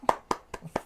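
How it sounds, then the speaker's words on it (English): Four sharp hand claps spaced about a quarter second apart, close and crisp, with nothing else around them. "I can also applaud them"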